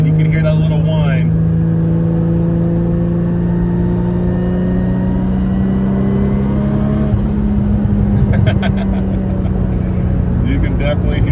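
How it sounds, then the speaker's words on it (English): A Nissan R32 GTR fitted with straight cut gears cruises in third gear, its steady high-pitched gear whine riding over a loud, constant engine drone heard from inside the cabin with the windows up. "So right now I'm in third, and you can hear that little whine."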